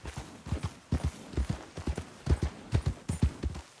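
A horse in the video game Red Dead Redemption 2 walks at a steady pace, its hooves giving a clear, regular clip-clop rhythm of close, moderately quiet knocks with no talking.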